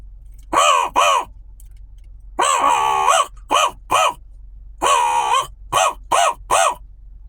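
Crows give alarm calls in an erratic pattern: loud, harsh caws close by, some drawn out and others short, arriving in irregular clusters separated by brief silences.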